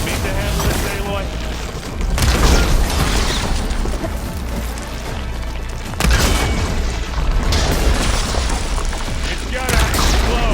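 Heavy explosions and chaotic combat in the video game Horizon Forbidden West, two loud booming blasts a few seconds apart over a dense, continuous roar of battle noise with voices shouting underneath.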